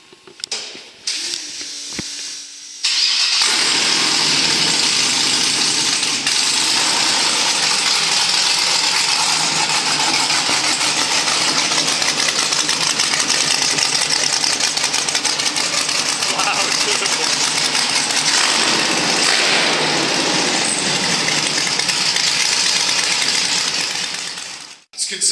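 An Ultra 4 off-road race car engine runs steadily for over twenty seconds with a rough mechanical chatter, then cuts off abruptly near the end; a brief quiet start precedes it.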